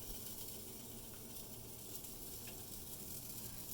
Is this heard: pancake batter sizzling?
yes